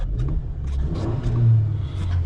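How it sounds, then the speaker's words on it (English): A 2026 Jeep Wrangler Rubicon's 2-liter turbocharged four-cylinder revs up at close range, a steady rising engine drone peaking briefly before easing back, with no talk over it. "let's do a quick little rev test of this 2-liter turbocharged 4-cylinder"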